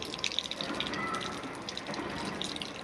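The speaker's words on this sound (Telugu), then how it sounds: "మీరు ఇంత వాటర్ కాలు కడుక్కోవడానికి చేతులు కడుక్కోవడానికి డ్రింకింగ్ వాటర్ని వేస్ట్ చేస్తున్నారు" Drinking water runs steadily while someone washes hands and feet, a faint continuous splash and trickle over a few seconds with no one speaking.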